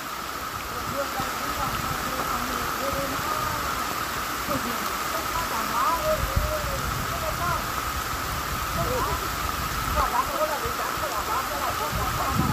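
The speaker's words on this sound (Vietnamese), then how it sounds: "Nhưng mà giờ mưa to quá" Heavy rain pours steadily over a muddy Central Highlands hillside where Hmong men load timber onto a truck, a dense continuous hiss with voices talking faintly underneath.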